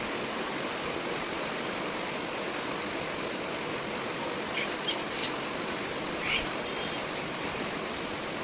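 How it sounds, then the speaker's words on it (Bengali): Heavy morning rain pouring down, a dense, steady hiss filling the whole stretch without letting up, with a few faint chirps just audible. "এতটা বৃষ্টি।"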